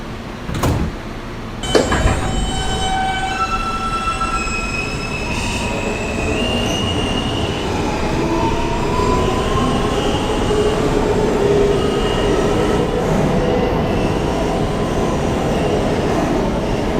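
Brooklyn-bound F local subway train running in a steady, loud rumble, with wheel squeals and gliding metallic tones rising and falling over the track noise.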